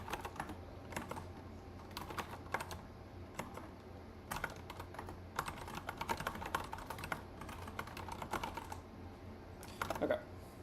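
Someone types on a computer keyboard during a coding session, producing quick irregular bursts of clicking keystrokes with brief pauses between them. The clicking is close and fairly quiet.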